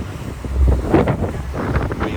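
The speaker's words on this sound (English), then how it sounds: "We are sailing past the ship on the IKEA ferry" A ferry crossing the water near the Red Hook cruise terminal in Brooklyn, heard as a loud rush of wind buffeting the microphone over the boat's hum and splashing water, close and continuous.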